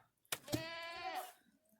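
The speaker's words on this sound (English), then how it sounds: "The joys of owning goats." A single close goat bleat, a wavering, nasal cry lasting about a second, preceded by a couple of sharp clicks.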